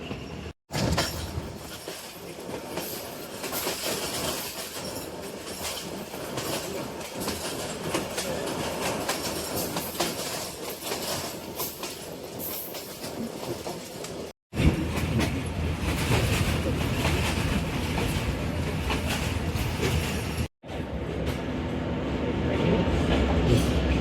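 Sialkot Express passenger train running on rails, a steady loud rumble with rhythmic wheel clatter heard from on board, briefly interrupted by a couple of cuts.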